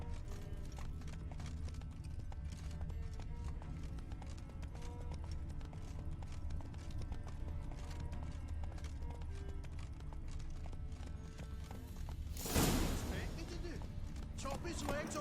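Roach the horse's hooves clip-clop steadily in The Witcher 3, mixed into dense game sound with people talking over them, while a brief loud burst breaks through near the end.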